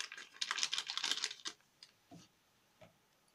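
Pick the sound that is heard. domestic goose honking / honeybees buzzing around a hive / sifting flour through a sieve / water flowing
sifting flour through a sieve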